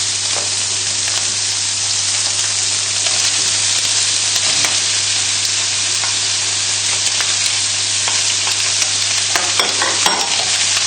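Mushrooms and garlic fry in oil in a pan, making a loud, steady, close sizzle with scattered stirring scrapes and clicks.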